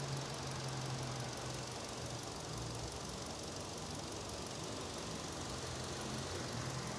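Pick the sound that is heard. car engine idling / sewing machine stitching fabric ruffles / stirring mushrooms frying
car engine idling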